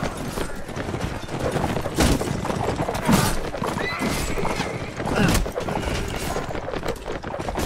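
Horses neigh amid galloping hoofbeats and clattering action noise, with loud bursts and impacts layered throughout a busy castle siege scene in the video game Mount & Blade: Warband.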